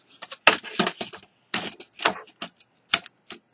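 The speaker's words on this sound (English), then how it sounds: "So now we open this keyboard" An iGo Stowaway Think Outside XTBT01 folding Bluetooth keyboard is unfolded, giving a rapid series of sharp plastic clicks and snaps in uneven bursts, close and fairly loud.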